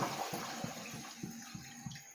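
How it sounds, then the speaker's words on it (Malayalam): Coconut milk pouring in a steady stream into a pot of chicken curry, with a soft rhythmic gurgle and slosh repeating every fraction of a second. "അതിലേക്ക് ഞാനിതാ ഒന്നാം പാൽ ഒഴിക്കുന്നു"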